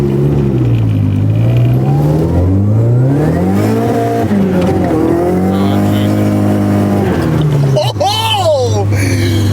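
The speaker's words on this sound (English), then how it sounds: "We got that two-way diff making noises" Engine of a Nissan 180SX revving and accelerating hard, with chatter from its two-way differential and a brief tire chirp, loud from inside the car while people talk and shout over it.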